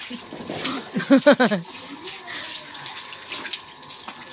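Water runs steadily from a tap while someone bathes, a faint, continuous hiss after a brief burst of a nearby voice.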